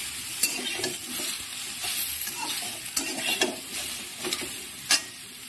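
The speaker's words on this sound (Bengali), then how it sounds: "এবার ভালো করে নাড়াচাড়া করে লবণ হলুদটা এই সবজিগুলোর সাথে আমি মিশিয়ে একটুখানি তেলে ভেজে নেব" Vegetables coated with salt and turmeric frying in a little oil, a steady sizzle broken by repeated stirring scrapes and a few sharp clacks of a utensil against the pan.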